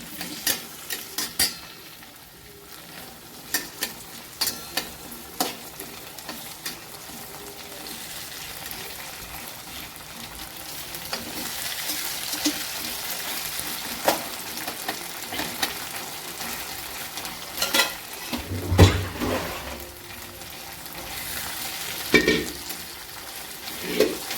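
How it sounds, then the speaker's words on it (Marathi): Curry leaves sizzle in hot tempering oil for pohe, with a steady fry and the occasional clink and scrape of a spoon stirring in the pan. "कढीपत्त्याला पण छान असं फो फोडणीत परतून घ्यायचं"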